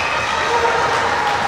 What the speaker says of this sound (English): Sanger West is applauding again.